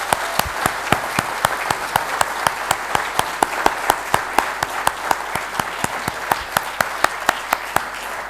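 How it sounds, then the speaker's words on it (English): Sustained applause from a conference audience at a business event, a steady dense patter of many hands clapping throughout at moderate loudness, with no talk over it. "Please join me in giving an absolutely rip-roaring applause"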